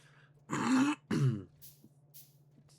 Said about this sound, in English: Excuse me if I clear my throat a lot.